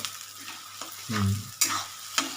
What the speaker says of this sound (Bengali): পেঁয়াজটাকে একটু লাল করে ভেজে নিলাম